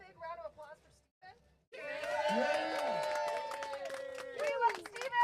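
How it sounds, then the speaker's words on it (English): A few words of speech, then a crowd at a slalom championship breaks into cheering, whoops and clapping that swell and carry on loudly. "Can we get a big round of applause for Steven?"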